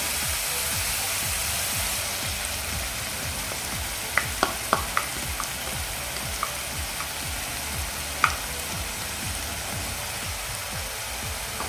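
Tomato paste sautés with fried onion in a pan for restaurant-style chana masala, giving a steady, loud sizzle throughout, with a few sharp spoon clicks on the pan partway through.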